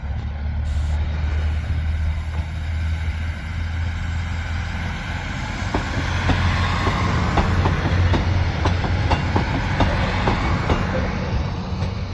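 Bz railcars being uncoupled at Konyár railway station, Hungary: a low rumbling engine idles while metallic clanks and rhythmic clacks build up, close by and fairly loud.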